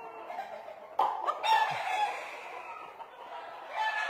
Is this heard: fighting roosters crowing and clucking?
yes